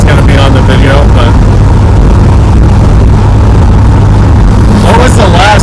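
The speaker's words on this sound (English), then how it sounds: "I don't know how bad the road noise is going to be on the video" Constant loud road noise and low engine hum from inside a moving car with failing brakes, with people talking over it.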